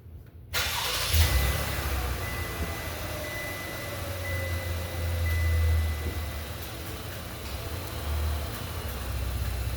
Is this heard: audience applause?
no